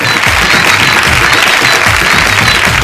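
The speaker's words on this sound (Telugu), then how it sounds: "Claps, come on." Studio audience at a TV comedy show clapping loudly and continuously, a dense close wash of applause without pauses.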